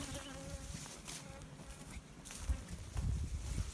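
Honeybees hum around an open hive during frame inspection, a steady close buzzing with small swells in loudness and faint handling noises underneath.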